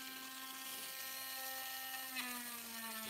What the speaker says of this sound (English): I like to use the slow speed drill